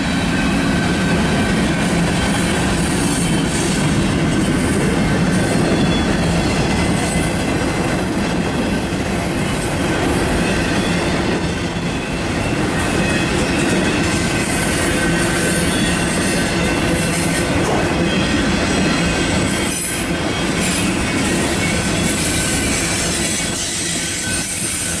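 A CN eastbound manifest freight train led by locomotives 3269, 3278 and 9615 rolls past in Battle Creek, Michigan, a loud, continuous roar of wheels and rail noise that holds steady throughout.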